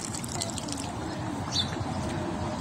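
Water running from a tap set inside an old traditional water fixture in a Saudi park, a steady trickling and splashing stream with faint dripping, continuous and close, with light background noise.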